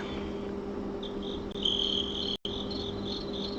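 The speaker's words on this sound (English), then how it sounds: "Nothing but me and the crickets." Crickets chirp in a steady high trill over a faint hum, continuous and close, with a brief dropout partway through.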